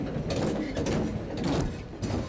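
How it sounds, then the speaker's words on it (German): An excavator moving up onto a trailer behind a Unimog 430 rig produces a steady low mechanical rumble layered with creaks and ratcheting clanks of its tracks and metal parts, heard nearby without talk. "Gut, jetzt kommt der Bagger."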